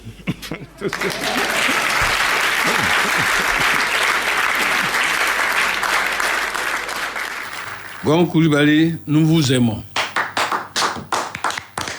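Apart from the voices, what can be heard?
applause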